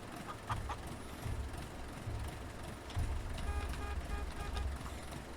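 Chickens in Farming Simulator 19 give faint scattered clucks over a low rumbling vehicle engine, quiet and distant throughout.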